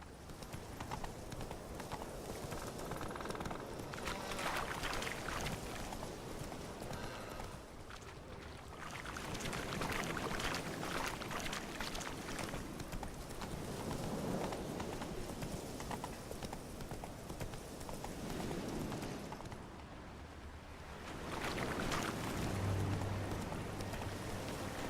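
Roach, Geralt's horse in The Witcher 3, gallops steadily with a continuous rhythmic clatter of hooves, loud and close throughout, mixed with rushing wind and ambient game noise.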